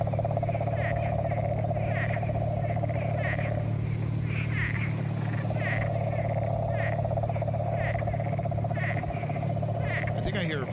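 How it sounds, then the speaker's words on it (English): Frogs call steadily outdoors near a body of water at night, pulsing croaks repeating over a constant low rumble that could be traffic, while a voice speaks over it. "I hear frogs."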